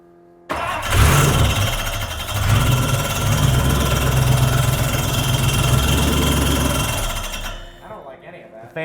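A hot rod Studebaker with a tri-power carburetor setup and open exhaust runs loud and close for about seven seconds, a steady, rough, rumbling throb, then drops away abruptly.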